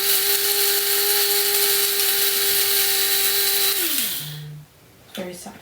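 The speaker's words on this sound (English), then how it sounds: "Grind it a little bit more." Coffee grinder grinding beans for an espresso machine, a steady loud whir holding for about four seconds before winding down and stopping, with a brief clatter afterward.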